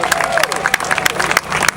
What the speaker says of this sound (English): Let's give the mayor another round of applause for making this happen.